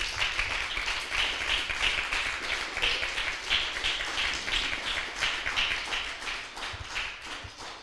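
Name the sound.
church congregation applause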